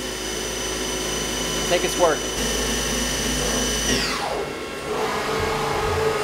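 CNC mill cutting a titanium bolt with a helical threading move, a steady high machining whine with a brief fluttering burst and a falling pitch as the spindle winds down, with a short spoken remark over it.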